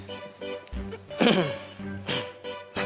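Someone coughing or choking in a dramatized scene, with a strained, harsh burst of coughs and throat sounds rising from a quieter background, followed by further short coughs.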